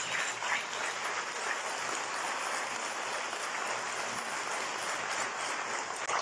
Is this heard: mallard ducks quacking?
no